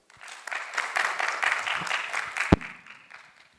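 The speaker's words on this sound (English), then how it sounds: "Please give him a round of applause." A short round of applause from a panel discussion audience greets a professor taking the floor, moderately close clapping that builds, holds briefly, then trails off.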